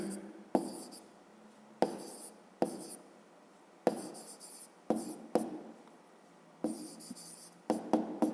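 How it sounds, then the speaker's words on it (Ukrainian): A pen writes an answer by hand on paper for a fifth-grade math exercise: close, quiet scratchy strokes in short bursts, each starting with a sharp tap, spread irregularly across the stretch. "Ну і тепер записуємо відповідь. Пишемо відповідь."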